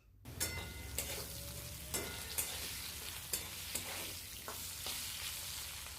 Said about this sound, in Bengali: আলুটাকে আবার একটু নাড়িয়ে নেব